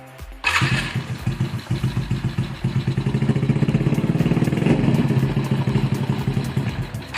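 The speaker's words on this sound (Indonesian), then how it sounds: "Di sini motor sudah hidup." A carbureted motorcycle starts after periodic servicing with the spark plug cap refitted: one sharp catch, then a close, loud idle with a steady, rhythmic pulsing chug and some mechanical clatter.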